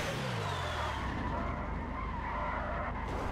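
Long, loud tire skid from a sliding car in GTA V, a continuous squealing smear that holds steady for several seconds as the car keeps gliding, with no speech over it.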